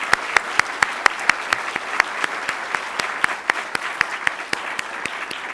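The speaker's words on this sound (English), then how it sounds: "So actually a round of applause for Paul Dean." Applause from the audience at a Georgetown Law installation ceremony for a new dean, with sharp individual claps standing out at a quick, steady rhythm, close and moderately loud throughout.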